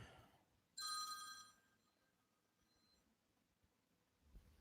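A cell phone rings with an incoming call, one bright electronic ringtone burst that is fairly clear against a quiet room background, followed by faint trailing tones.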